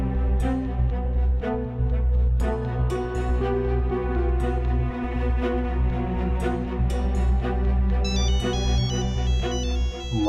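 A phone ringtone plays loud and continuous, a repeating melodic tone with bright ringing notes near the end and no voices over it.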